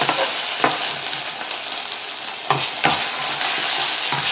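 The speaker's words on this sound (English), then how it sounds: "just to saute it to get it very well combined" Mint sautéing in a pan with ginger garlic paste for ragi mint-masala paratha, a loud continuous sizzle broken by a few sharp scraping stirs of a utensil, no voices.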